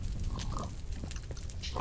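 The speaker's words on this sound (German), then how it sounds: "Dann hier die Schweinchen," Pigs in the video game Minecraft grunt and oink in a short burst of overlapping, close snorts with some game ambience behind them.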